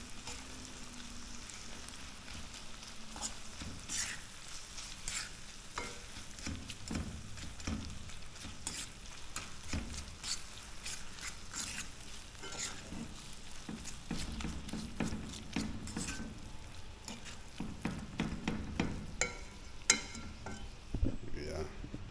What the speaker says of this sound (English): So just chop in the beef. Mix up in it.